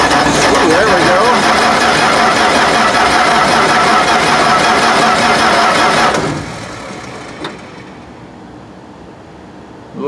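Diesel engine of an old MF 300 combine running steadily after a cold start on a rebuilt fuel system, a loud close continuous rumble that suddenly drops to a quieter idle partway through.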